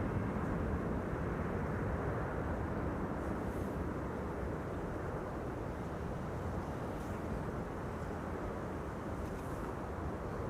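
Emirates airliner passing over Schiphol airfield, a broad distant roar of jet engines that stays fairly even across the whole stretch, with no voices.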